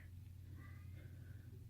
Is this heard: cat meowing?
yes